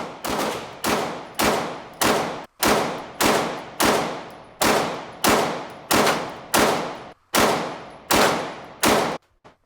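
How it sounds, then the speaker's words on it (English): A Glock 43X pistol fitted with a Shield Arms S15 magazine fires about fifteen rapid, sharp, loud shots at an outdoor target, evenly spaced with short pauses, and no talking. "For the final 15 rounds, thought I'd shoot just as fast as I could and sort of hit the target."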